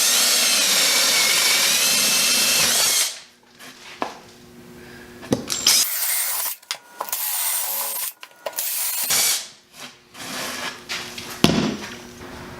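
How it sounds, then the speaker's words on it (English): A standard power drill with a 9/16 spade bit bores holes in wood for a wine rack, with loud bursts of whirring and grinding broken by pauses and clunks of the workpiece. "you're going to take your standard drill and you're gonna put the 9/16 spade bit in there"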